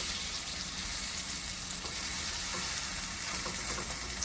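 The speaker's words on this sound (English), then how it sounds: "so now I'm gonna flip them with a spatula" Vegan pumpkin fritters fry in hot oil with a loud, steady sizzle, punctuated by faint scraping taps as they are turned with a spatula and spoon.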